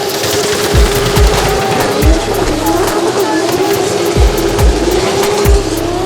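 A D1NZ drift car with a 2J engine runs loud and close, a steady throaty roar broken by repeated sharp pops and bangs.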